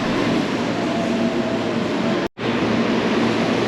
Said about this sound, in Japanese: 電車が入線してきましたので、こちらの電車に乗車したいと思います。